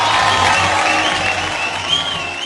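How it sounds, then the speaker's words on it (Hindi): Dense, steady audience applause fills an award show hall at the Star Guild Awards 2020, a loud continuous roar of clapping with a faint crowd murmur under it throughout. "जोरदार तालियां हो जाए इनके लिए।"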